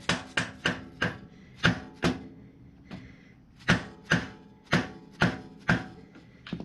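A small flathead screwdriver is knocked against a pin to drive it into a 2018 Harley-Davidson Sport Glide during a foot-peg-to-floorboard swap, giving about fifteen sharp, close metallic taps in uneven bursts with short pauses.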